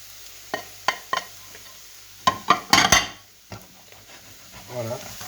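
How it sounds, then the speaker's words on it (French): Sliced leeks and carrots sautéing in a pan, a soft steady sizzle beneath sharp clinks and scrapes of a utensil stirring against the pan, with a person talking near the end. "je vais rajouter les poireaux avec et on va continuer à faire revenir un peu, à les faire suer"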